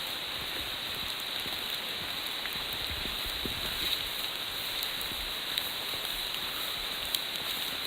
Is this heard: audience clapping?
no